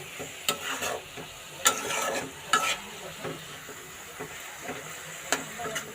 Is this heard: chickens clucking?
no